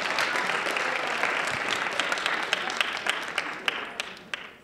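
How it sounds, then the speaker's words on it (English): An audience applauds a WNBA player, Michelle Campbell, with a dense, fairly loud roll of clapping that thins into a few sharper, separate claps before fading out. "let's give her a big round of applause."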